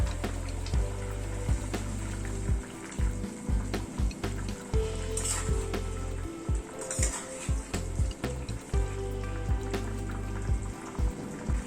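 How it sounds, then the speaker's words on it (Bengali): Fish curry gravy with curry leaves simmers and sizzles steadily in a pan, with a low bubbling hum broken by regular soft pops and clinks. No voices. "ঝোলটা একটুখানি ফুটে ওঠা অবধি অপেক্ষা করব"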